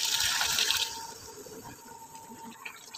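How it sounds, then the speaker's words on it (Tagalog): A cup of water pours and splashes into a pot of chicken afritada for about a second, then settles into a quieter trickle and bubbling. "Lagay natin yung isang tasang tubig."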